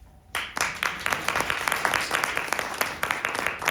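Audience applause after a candidate's closing statement at a League of Women Voters water commissioner forum in Port Washington, New York, a burst of dense clapping that starts suddenly and carries on steadily, close and fairly loud.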